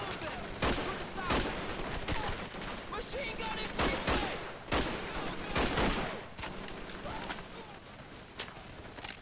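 Machine gun fire from a German MG position in the World War II shooter Call of Duty 3, heard as repeated sharp gunshots and bursts over a continuous battle din, with scattered shouting voices mixed in.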